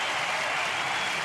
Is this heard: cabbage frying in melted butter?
no